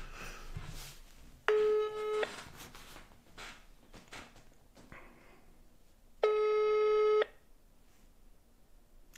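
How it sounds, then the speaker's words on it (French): A phone call ringing out unanswered, two long electronic ringback tones about four seconds apart, clear and steady, with faint background noise between them. "Oh, Karim, tu réponds pas"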